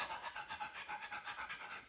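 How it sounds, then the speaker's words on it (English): A pregnant dog pants before labor, quick rhythmic breaths of about five per second, close and fairly faint, with no other sound. "Another one would be the dog starts panting."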